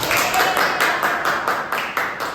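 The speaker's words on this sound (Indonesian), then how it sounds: "maka tepuk tangan dulu" Clapping from a small group in a classroom-style presentation, steady irregular claps running throughout at moderate loudness.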